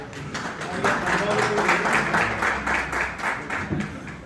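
A seated audience at a Vaishya community conference in Guna district applauds. The clapping is dense and steady, fairly near, and people talk over it.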